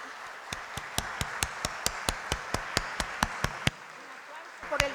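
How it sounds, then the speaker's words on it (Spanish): Audience at a World Dance Day talk clapping in honour of the Teatro Vera, a single steady rhythmic run of about a dozen evenly spaced claps close to the microphone, stopping abruptly before a brief rustle. "Un aplauso por el teatro"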